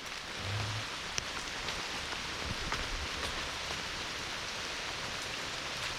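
Steady rain patters on a rocky hiking trail on the Appalachian Trail in Virginia near McAfee Knob, an even wash of drops all around with a few louder close splats, moderately quiet.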